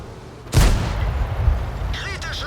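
A tank cannon in World of Tanks fires a single high-explosive shell from the leKpz M41 90mm, a sudden loud boom that rolls off into a rumbling tail before a short voice cuts in.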